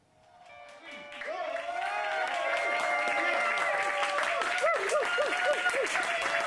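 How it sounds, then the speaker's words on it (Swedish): Warm applause for the final ensemble at a pop/rock student concert in Malmö, crowd clapping swelling in and holding steady while sustained sung or played tones and a voice carry over the top. "ger en varm applåd till sista ensemblen"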